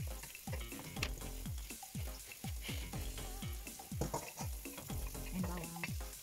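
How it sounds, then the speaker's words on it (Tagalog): Onions sizzle in hot oil while being stirred, a steady frying hiss broken by regular scraping strokes of a utensil against the pan, close up with no talking. "igisa natin ang sibuyas muna"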